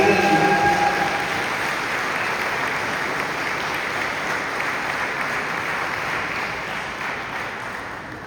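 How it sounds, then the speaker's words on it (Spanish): A church congregation gives a sustained round of applause during a streamed service, a loud, even roar of many hands clapping that starts strongest and tapers gradually over eight seconds, with a faint tonal hum beneath. "Denle un aplauso al Señor por la vida de Iván."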